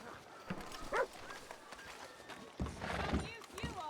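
A horse neighs briefly in the video game Red Dead Redemption 2 amid hoof clatter and outdoor ambience, with a voice speaking nearby.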